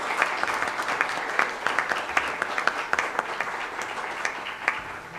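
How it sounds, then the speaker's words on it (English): An audience at a League of Women Voters candidates night forum applauds the candidates, a steady wash of many hands with a few crisp claps standing out, moderately loud and continuous without speech. "Let's give all of our candidates here a round of applause"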